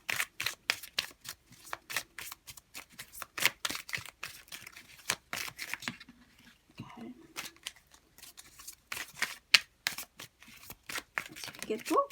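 Tarot cards are shuffled for a reading in quick, crisp riffling bursts with short pauses, close and fairly soft, with a voice speaking at moments between the shuffles.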